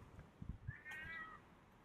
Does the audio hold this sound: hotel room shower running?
no